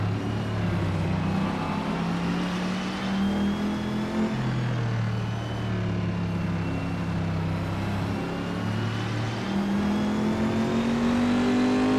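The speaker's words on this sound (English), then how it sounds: "Corvette kind of sounds like an AMG in a way. It kind of has a little low-end grunt to it." A Corvette engine in a sim racing game hums and revs steadily with a low-end grunt, pitch rising and falling through gear changes, loud and continuous with no talking.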